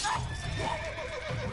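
A horse in The Witcher 3 whinnies with a rising, shaky neigh near the start, set against game ambience and faint hoof clip-clop, with no speech over it.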